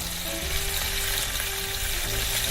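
Beef searing in a hot pan for braised beef, a steady loud sizzle and crackle of frying meat that continues evenly without a break.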